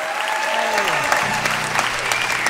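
Audience at the Freight and Salvage in Berkeley, California applauding a performer at a live concert, a warm, sustained burst of many clapping hands under a fading tone, steady and close.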